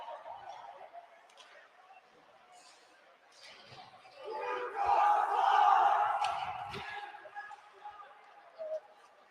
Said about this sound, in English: The crowd letting us know how they feel about Utah Valley.